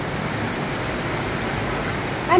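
Rainwater pours steadily through a leaking roof during a storm, heard as a constant hiss with a brief louder splash at the end.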